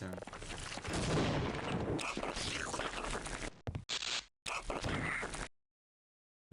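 Rapid bursts of gunfire and explosions from the video game Half-Life: Opposing Force crackle densely, loud and continuous, with a few abrupt cutoffs before falling silent near the end.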